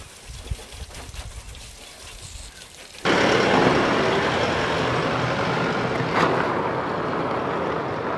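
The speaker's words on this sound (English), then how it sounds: "So now I'm just going to give it a bit of a hose down" A hose spraying water onto the underside of a 4WD vehicle after a transfer case oil change, starting abruptly after a few quiet seconds and continuing as a loud, steady hiss.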